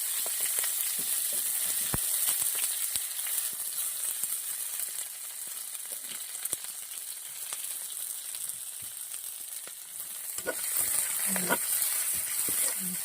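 Sliced onions frying in a little oil with dried chillies give a steady, close, even hiss of sizzling that swells slightly toward the end, with a few faint scrapes of stirring.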